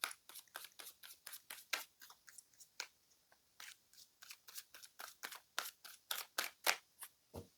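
A tarot deck shuffled close up, a fast even train of crisp papery flicks and riffles, quiet and with no talk.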